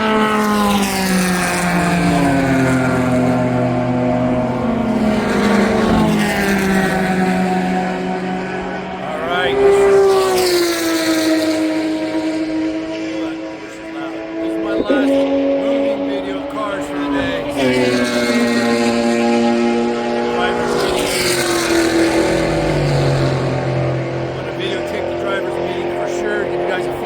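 Race car circling Watkins Glen with an Aston Martin in the class, engines rising and falling through gear changes as several cars pass, loud and continuous, with someone talking over the noise.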